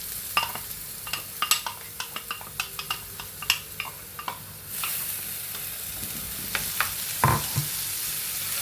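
Ground paste for an ash gourd curry frying in a pan: a spoon clacks against the pan in a rhythmic stirring pattern over a low sizzle, and the hiss swells louder and steadier partway through.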